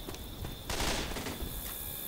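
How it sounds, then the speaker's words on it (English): Burst-fire gun shooting in Left 4 Dead 2, a short loud volley of rapid shots that erupts partway through and then trails off into quieter game ambience. "Oh, this is the burst fire."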